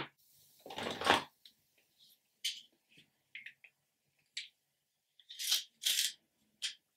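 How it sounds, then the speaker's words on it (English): Short scraping bursts of makeup pencils turning in a sharpener, one longer grind followed by scattered brief twists, close and fairly quiet. "I'll give all these a good sharpen."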